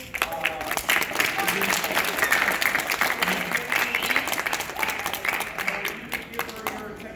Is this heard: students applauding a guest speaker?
yes